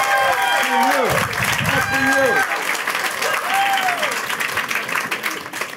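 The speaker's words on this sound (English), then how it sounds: "the women that are out there on the stairs back there, give them a round of applause" Crowd applause at a women's center groundbreaking ceremony, sustained clapping with voices talking and cheering over it throughout.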